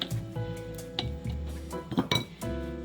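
Spatula or scraper clinking and scraping against a metal mixer bowl while gathering egg-free cookie dough, a string of short metallic taps and rasps, close and fairly quiet.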